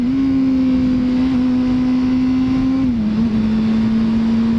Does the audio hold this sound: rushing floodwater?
no